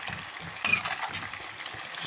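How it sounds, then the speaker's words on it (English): Steady, close sizzling and crackling of chopped tomatoes frying in a pan, with faint clinks of a utensil stirring. "So as I'm frying it, it's bringing out the paste."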